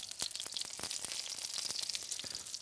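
Slices of squeezed eggplant fry in a pan for moussaka, about three pieces at a time, giving a steady close hiss and crackle of hot oil dotted with sharp pops, with no one talking.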